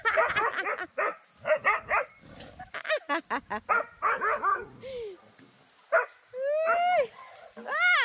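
Several dogs bark and yip in short bursts, some close and loud, with a few higher whining yelps near the end and talking in between.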